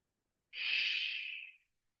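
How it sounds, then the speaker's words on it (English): A single airy breath drawn in, soft and close, lasting about a second before falling silent. "Take a breath in."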